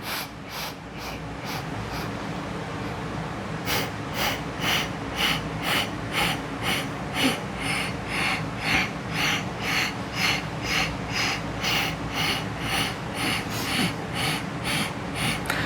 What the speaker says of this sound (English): the breath that we're going to use with this is 8 sniffs in and 8 sniffs out